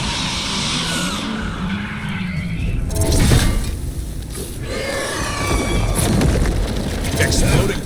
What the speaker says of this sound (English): Exploding darkspawn?